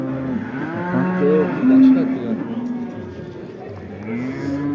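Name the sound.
cows mooing at Karakol livestock market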